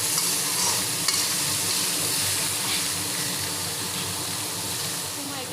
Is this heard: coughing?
no